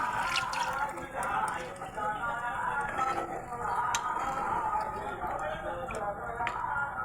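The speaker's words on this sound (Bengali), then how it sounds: "এবার আমি জল দিয়ে দেবো।" Water poured into a pan of pomfret cooking in mustard curry with mustard oil, a steady trickling splash with faint drips and sizzle throughout.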